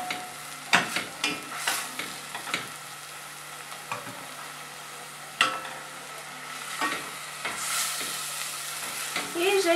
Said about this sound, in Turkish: İyice kavuruyoruz,